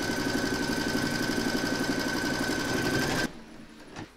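Embroidery sewing machine stitching the second round of a large cross appliqué in a hoop: a steady, fast mechanical whirring that runs for about three seconds, then stops abruptly and leaves a quiet room.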